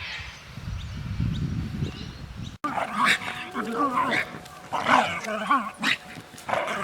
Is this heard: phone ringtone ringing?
no